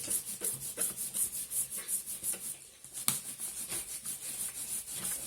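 A surface is being wiped clean with quick, rhythmic rubbing strokes, soft and close, with a brief pause near the middle before the strokes resume.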